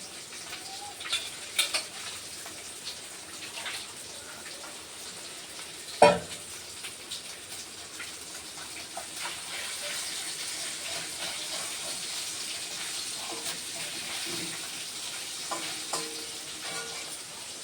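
Fish curry cooks in a frying pan, giving a constant moderate sizzle with light scrapes of stirring and one sharp clank of a utensil early on, with no speech.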